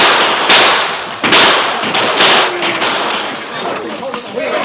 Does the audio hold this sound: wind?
no